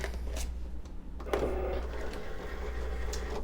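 A Cricut cutting machine loading a cutting mat, giving a steady mechanical motor whir with a rising whine partway through, close and continuous with no talking.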